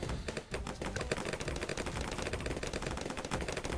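Rapid sniper tower shots in Bloons TD6, a continuous fast crackling barrage that stays loud and steady throughout with no talking.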